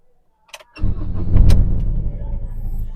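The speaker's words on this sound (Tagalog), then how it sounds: "testingin natin buhayin yung makina" A Ford Ranger engine cranks and catches after a pair of faint clicks, settling into a loud, steady idle that rumbles close by for the rest of the moment.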